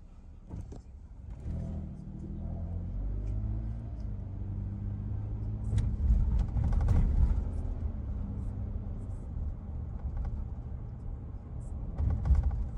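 A car engine hums and rumbles from inside the moving vehicle, rising steadily as it gets under way, with a voice talking intermittently over the drone.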